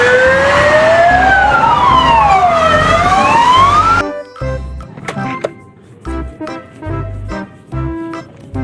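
A toy fire engine ladder truck wails its electronic siren loudly and up close for several seconds, followed by clicking and clattering plastic handling noises.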